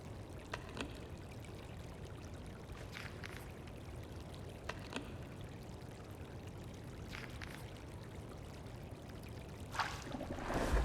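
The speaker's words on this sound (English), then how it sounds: "Water. Refill the canteen." Water is poured and bubbles softly while a canteen is refilled at a water source in a winter survival video game, a faint continuous trickle with a few brief splashy accents near the end.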